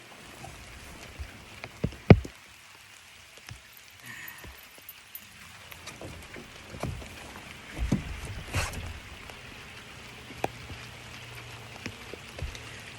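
Rain pouring down on a lake during fall bass fishing with a spinnerbait around shallow cover: a faint, steady patter with scattered louder drops and occasional clatters on nearby gear, with no voices.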